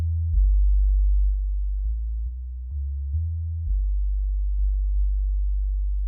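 Dark lo-fi filtered synth with modulation depth turned to zero: a deep, muffled sustained tone shifting between a few low pitches, steady and close with no talk.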